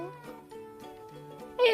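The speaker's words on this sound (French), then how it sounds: "Et oui, c'est le chat." A cat's meow rings out clearly with tonal, harmonic calls, then a brighter, louder cry right at the end.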